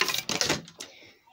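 A few rapid hissing squirts from a spray bottle misting an anole enclosure, close and sharp, then a final short spritz before it falls quiet.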